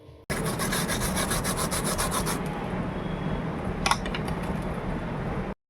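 Crispy fried chicken nuggets crunch up close in one loud, continuous rasping stretch, with a sharper crack near the end, and no talking.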